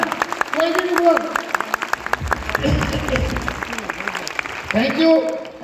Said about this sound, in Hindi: जोरदार तालियां, जोरदार तालियां, जोरदार तालियां।